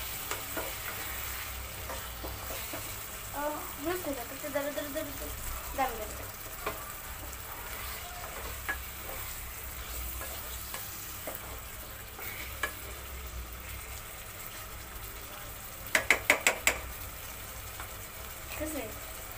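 Browned meat with potatoes and peas sizzling gently in a pan for khichuri, with intermittent stirring scrapes and a burst of sharp clinks near the end; quiet speech occasionally underneath.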